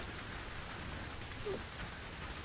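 Steady rain falling outdoors in The Invisible Hours, a dense even hiss of drops on surfaces that holds constant with no voices over it.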